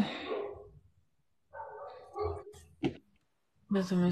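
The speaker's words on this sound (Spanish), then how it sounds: "los perros de tu cuadra no se callan." Dogs bark in short bursts amid a quieter background, with speech-like sounds mixed in close by.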